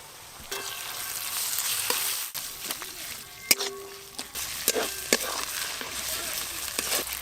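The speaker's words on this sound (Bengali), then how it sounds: "এর ওপর দিয়ে আদা রসুন দিয়ে আর একটু ভালো করে ভেজে নেব" Onions with ginger-garlic paste sizzle and fry in a pan for a chicken curry, with steady crackling and several sharp clacks of a spoon stirring against the pot throughout.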